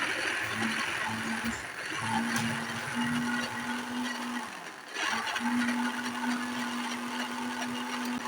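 A blender grinds ginger, garlic and green chilli paste with salt and oil, a loud steady whine with a brief dip near the middle before the motor picks back up.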